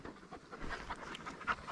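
An Alaskan sled dog puppy pants close by, quick soft breaths in an uneven rhythm, faint and with no voices over it.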